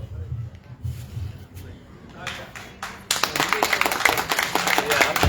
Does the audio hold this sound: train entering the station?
no